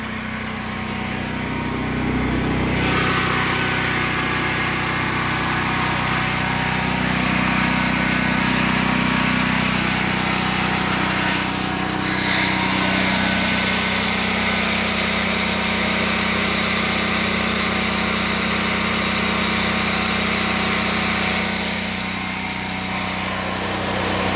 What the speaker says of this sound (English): We're gonna open it up and shut off the fuel, and then turn off the generator.